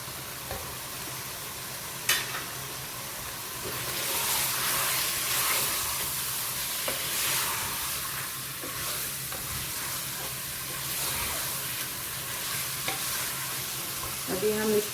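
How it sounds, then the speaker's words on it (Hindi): Ginger, onion, green chilli, salt, chilli powder, turmeric, dried coriander and cumin frying in a pan for chicken haleem, giving a continuous close sizzle with spoon stirring and scraping, a few sharp clinks and swelling bursts of hiss. "अभी हम इसको भूनेंगे 5 मिनट तक"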